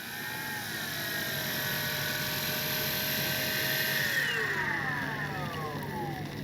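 An electric-powered CNHL Bison XT RC bush plane whines past in flight, its propeller pitch sliding downward as it passes and recedes, steady and fairly close, with no talk.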